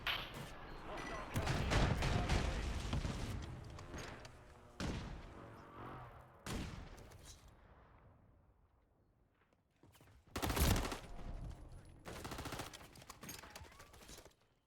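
Call of Duty gunfire crackling in loud bursts, a heavy volley early on, then shorter scattered shots fading quieter before a sharp close burst near the end, with a voice talking faintly in between.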